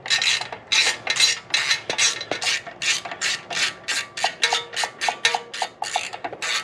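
Rapid, steady ratchet clicking, about twenty close, bright ticks in regular strokes, as a ball socket Allen tightens the oil cooler bolts on a Harley-Davidson.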